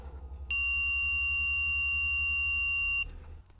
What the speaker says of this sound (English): If you get a beeping noise or a reading of 10 displayed on your screen